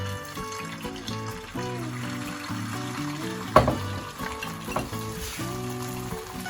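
An egg mixture sizzles and fries in about a tablespoon of hot oil on a griddle, a steady crackling hiss close by with a sharp clatter partway through and no talk.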